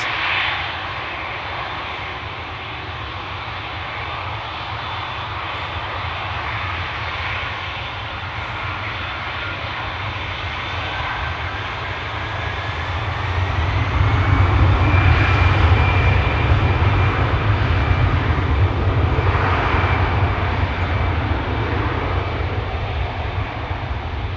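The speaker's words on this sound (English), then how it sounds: "That's an A320." An Irish-registered Airbus A320 airliner at Schiphol Airport, a sustained loud jet engine roar that swells louder partway through and holds steady, with no voices.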